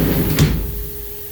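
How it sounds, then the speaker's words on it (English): The door of a V10 machining station is slid shut with a single short bump and rattle, followed by a steady machine hum. "I want you to close the door"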